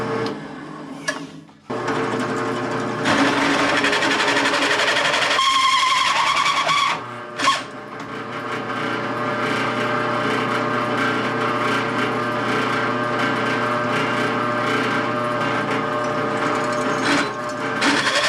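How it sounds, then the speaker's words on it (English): A drill bores a pilot hole through metal, a loud, sustained whine that runs almost continuously, with a brief pause and a sharp knock partway through, close up. "I'm going to drill the pilot hole first before I started on the bit"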